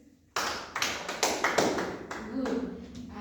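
A small group in a training session clapping for a participant, a brisk burst of several quick claps close by, alone without talk.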